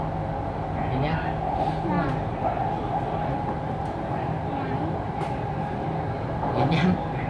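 An electric skytrain runs with a steady rumbling drone and faint clicks of the cars, heard from inside or nearby, while people talk over it throughout.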